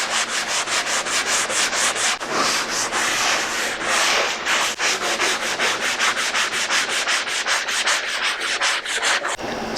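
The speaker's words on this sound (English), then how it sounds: "let the sanding block do the work. Especially when you have an aggressive grit like 60" A 60-grit sanding block scrubs drywall mud in steady, rapid back-and-forth strokes, loud and close, with a continuous rhythmic rasp and no voices.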